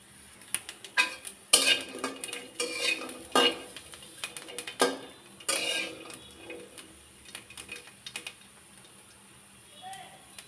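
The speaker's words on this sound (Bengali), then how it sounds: "এভাবে নাড়াচাড়া করে ভাজি করে নিতে হবে।" A utensil scrapes and clatters in a pan while garlic, onion and green chilies are stirred and fried for a thankuni leaf bharta, giving irregular close clinks and scrapes over a soft sizzle.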